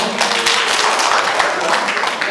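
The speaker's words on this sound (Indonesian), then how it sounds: "Kasih tepuk tangan dulu dong, semangat." An audience breaks into continuous applause, a dense, loud wash of many hands clapping together for a couple of seconds without pause.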